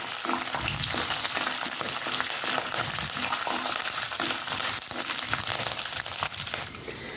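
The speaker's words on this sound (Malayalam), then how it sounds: "നമുക്കതിലേക്ക് കുറച്ച് കറിവേപ്പില കൂടെ ചേർത്ത് കൊടുക്കാമേ അതുകൂടെ നമുക്കൊന്ന് ഇളക്കി കൊടുക്കാം" Coconut pieces and curry leaves fry and get stirred in a pan while a special beef dish is being made, giving a steady, close sizzle with scraping and crackling throughout and no talk.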